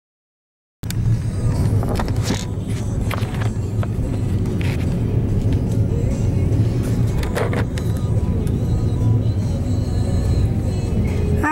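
A car rolls through traffic with a steady low road rumble and tyre noise, punctuated by a few faint clicks and knocks from inside the cabin, with no clear talk.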